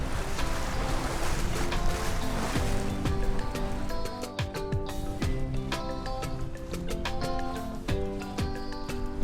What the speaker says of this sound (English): It's pretty gusty right now too. We keep getting like no wind and then lots of wind.